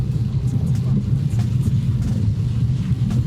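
A Mercedes C350 Sport Edition with the bigger engine pulls steadily, giving a deep, even engine rumble heard from inside the car at a constant, fairly loud level.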